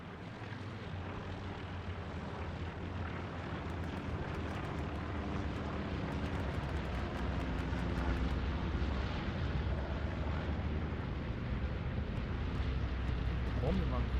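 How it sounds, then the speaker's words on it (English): Propeller aircraft on a bombing run over Utah Beach in a World War II shooter drone steadily, with a low rumbling engine roar and distant blasts beneath an ongoing voice. "Bombing run incoming from a second."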